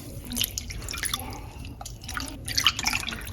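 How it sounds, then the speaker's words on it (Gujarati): Water is poured into a bowl of semolina and yogurt batter for a Gujarati handvo, giving a soft, close trickling and splashing that runs steadily for a few seconds. "2 કપ જેટલું પાણી નાખીશું આપણે"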